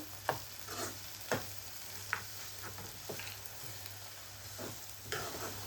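Onion frying in oil over a high gas flame for dhaba-style whole masoor, a continuous crackling sizzle with repeated scraping clicks from a spatula stirring the pan at close range, with a low steady hum beneath.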